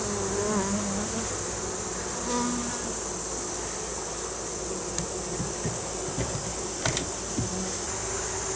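Honeybees buzz steadily around an open shed hive, a dense continuous drone close by with a few brief clicks and knocks, and no talking.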